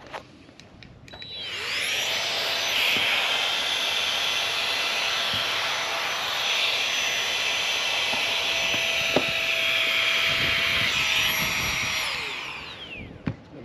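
An electric air blower inflates a birdbath pillow with a loud, steady high-pitched whirring hum that starts after a click, runs unbroken for about ten seconds with slight pitch shifts, then winds down, close and without talk.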